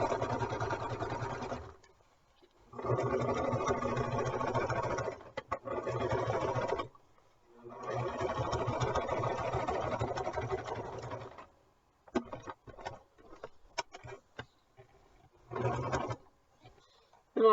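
A sewing machine stitches a fabric G tube pad in several steady whirring bursts of a few seconds each, separated by pauses, then gives way to scattered light clicks and handling noises near the end.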